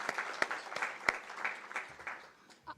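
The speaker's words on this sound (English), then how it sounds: "Can we give that a round of applause to that" Applause from an audience at a memorial lecture, a moderate patter of claps with a few louder single claps, fading toward the end.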